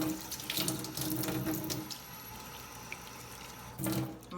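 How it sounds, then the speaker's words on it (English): Cool tap water runs from a faucet into a container holding Arm & Hammer baking soda, a steady rushing stream heard nearby that stops partway and resumes briefly near the end. "Now we're going to add water,"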